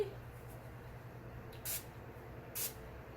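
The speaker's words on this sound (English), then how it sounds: "with some setting spray" Setting spray misted onto makeup, two short quiet hissing bursts about a second apart in an otherwise still room.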